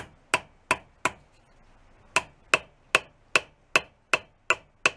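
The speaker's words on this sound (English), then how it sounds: "So I'll take my little hammer, very small ball peen" A very small ball-peen hammer taps a metal part on a 1938 Leedy Broadway Parallel snare drum during restoration. There are about eleven sharp, close, ringing strikes: three quick ones, a pause of about a second, then a steady run of eight.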